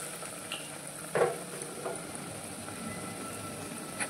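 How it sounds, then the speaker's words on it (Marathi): Spinach and potato bhaji frying in oil over a low flame, a faint, steady sizzle with occasional soft crackles and a brief stir or clink near the middle. "तर बारीक गॅसवरतीच आपण हे भजी मस्त असं तळून घेऊया।"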